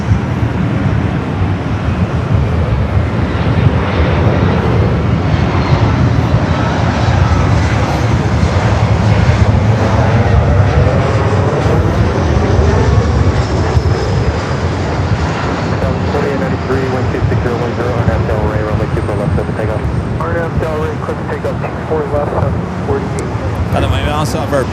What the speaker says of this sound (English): Flight 5 heading back to Tokyo Narita, heading up for a north side takeoff.